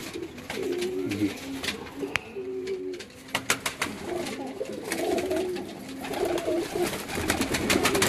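Pigeons in a loft coo in repeated soft, low, rolling calls, several birds overlapping at close range, with faint background chatter and occasional wing or cage sounds.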